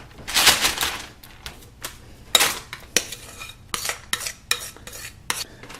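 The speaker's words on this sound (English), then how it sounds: "now I just start spooning the mix into my baking pan" A spoon scrapes and taps thick vanilla protein bar mix into a parchment-lined baking pan, with a run of close, uneven scrapes and clinks and no talking.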